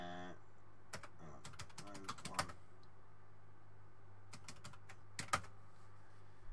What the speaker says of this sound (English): I'm typing in the dark.